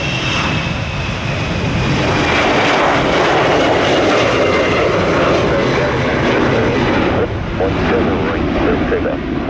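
An airliner takes off at Orlando International Airport on a windy morning, a loud sustained roar of jet engines that fills the whole stretch, with radio voices speaking over it.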